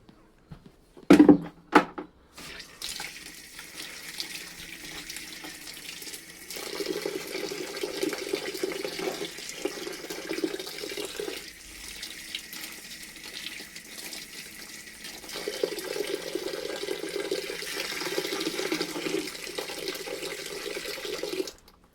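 Water pours into a leaf-extract solution being prepared for fermenting as a terrace-garden plant feed; a brief clatter opens, then a steady close splashing flow runs in two long stretches with a pause between.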